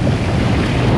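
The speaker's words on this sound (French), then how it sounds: "le vent il monte vraiment fort" Strong wind gusts across the microphone beside a river where kitesurfing is under way, a loud, steady roaring rush lasting about a second with no voices.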